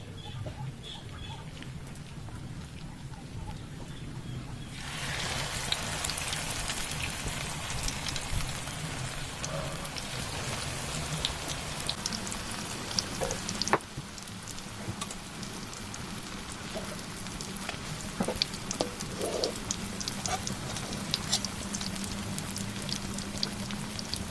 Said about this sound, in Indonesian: Yuk, kita sekarang mau lanjut goreng parenya bosku.